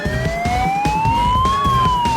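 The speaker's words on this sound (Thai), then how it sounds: "ลำคาญเสียงรถตำรวจ" A police car siren sweeps slowly up and down in a wailing tone, loud and close, over a background clatter of toy cars racing on a backyard track.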